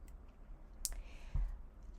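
One quiet, crisp computer mouse click in a still room, followed a moment later by a soft low tap.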